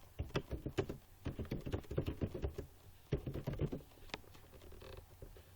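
Typing on a computer keyboard while entering an Excel comment: close, quick clusters of crisp key clicks in bursts separated by brief pauses, with no talking.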